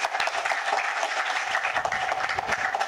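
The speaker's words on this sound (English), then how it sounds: "give Miss Samuel a nice round of applause" Audience at a community group awards ceremony in Trinidad and Tobago gives a round of applause, a steady medium-loud patter of many hands lasting about three seconds, with a few sharper individual claps and no talk over it.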